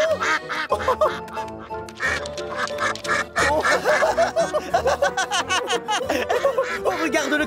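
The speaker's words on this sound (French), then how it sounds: "Oh, regarde le canard." A cartoon duck in a French-dubbed Thomas & Friends episode quacks repeatedly in rapid, chattering bursts, close and loud, mixed with snickering, chuckle-like sounds.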